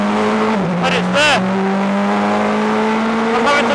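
Praga R1T EVO prototype race car on a track circuit, its engine droning steadily and close with a sharp rev flare and gear change, while someone talks over the engine throughout.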